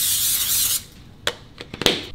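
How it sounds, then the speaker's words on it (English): A hand-held cooking oil spray can gives a couple of short hissing bursts in the kitchen after a steady sizzling hiss from the stovetop fades out. "I use this one. This is like a oil spray."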